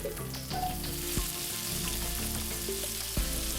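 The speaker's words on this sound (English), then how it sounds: "And now we are glazing the onions." Onions glazing in butter with a little sugar and red wine in a pan, giving a steady close sizzle with occasional utensil knocks and scrapes, no voices.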